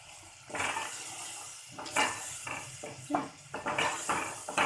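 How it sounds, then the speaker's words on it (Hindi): Ground cumin, coriander powder, chilli powder and turmeric being stirred and roasted in a pan, with repeated scraping and clattering of a spoon against metal and a faint sizzle underneath, fairly close and steady with sharper knocks throughout. "इन सब मसालों को अच्छे से हम भून लेंगे।"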